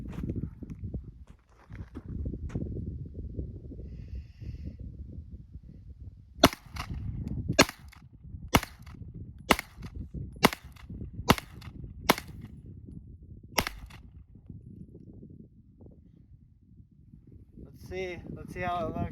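Several sharp gunshots fired at a target 35 yards away at a demolition ranch, sounding as about eight loud, spaced cracks over steady background noise, with voices talking before and after.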